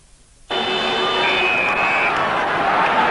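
A large home crowd at an Australian football match at Football Park in South Australia, Adelaide Crows against Sydney Swans in 1991, swelling suddenly into a loud, sustained roar with a whistle-like tone over it.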